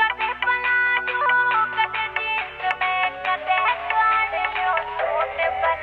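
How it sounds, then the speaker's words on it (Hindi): An electronic phone ringtone plays a repeating bright melodic pattern, clear and close, continuing throughout. "ले फोन सुनियो किसका आ रहा है।"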